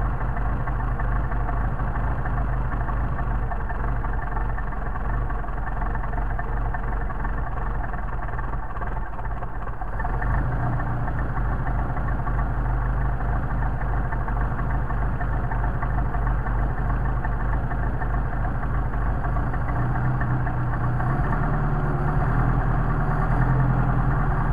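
A Mercedes 190SL engine idles with Solex carburetors and the choke partly open, a steady low mechanical thrum with a faint knock, rising slightly in pitch and loudness partway through.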